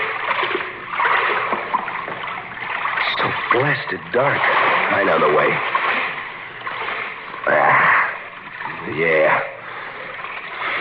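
Someone wades waist-deep through sewer water in a radio drama, splashing and sloshing in uneven surges while several voices talk over the watery movement.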